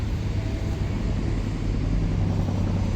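A grey BMW M4 G83 Competition convertible rumbles close by, giving a steady, loud low engine and road roar that holds for about three seconds, with no voices.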